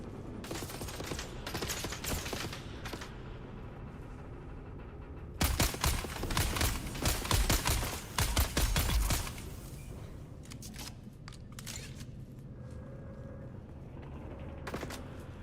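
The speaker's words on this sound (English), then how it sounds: "I heard gunfire." Gunfire in the video game Dune, heard at a distance as scattered dense bursts of shots, loudest in a cluster midway, over a steady ambient game background with creaking mechanisms.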